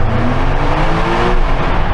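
Porsche 911 Turbo S engine accelerating through a tunnel, heard from inside the cabin: a loud, deep, continuous roar that rises steadily, with echoing rumble and tyre noise.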